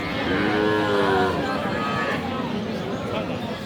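A cow at a village cattle market lows once in a long, drawn-out moo close by, heard over crowd murmur and people talking.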